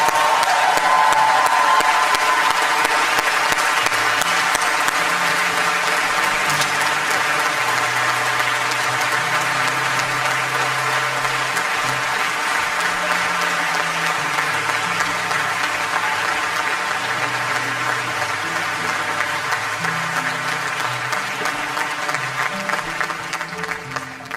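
A graduation ceremony crowd gives a long round of applause for retiring Adrie, steady dense clapping filling the hall for over twenty seconds with a faint hum of music beneath, slowly thinning at the close.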